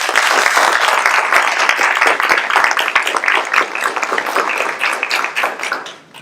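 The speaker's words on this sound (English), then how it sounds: "happy to give her a round of applause for all that she did" An audience at an Agnes Scott campus talk applauds a speaker, a dense patter of many hands clapping close and steady before tapering off at the end.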